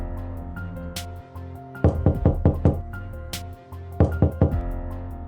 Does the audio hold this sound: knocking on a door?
yes